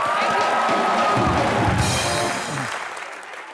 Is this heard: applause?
yes